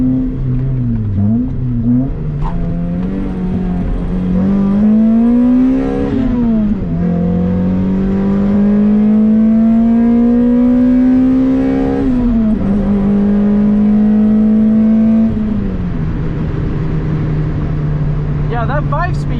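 A Toyota MR2 Spyder engine with a 5-speed gearbox drones and rises in pitch through several gear pulls, dropping back between shifts, loud and close throughout.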